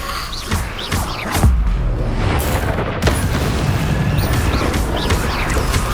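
In the Hogwarts Legacy game, a Confringo fire spell detonates with a heavy boom, followed by a sustained roaring, crackling rumble, with a further explosive thump about halfway through.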